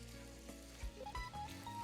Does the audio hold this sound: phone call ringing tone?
no